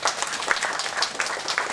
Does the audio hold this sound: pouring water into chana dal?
no